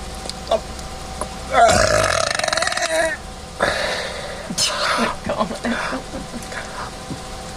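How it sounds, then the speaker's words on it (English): A loud, drawn-out human burp after swallowing air rumbles up close, followed by shorter burps and gulping sounds, with a voice talking in between. "So the key to a big burp is to swallow air."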